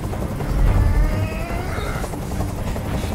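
Helicopter hovering in the video game Detroit: Become Human, a loud, steady low rotor drone and rumble filling the scene without pause.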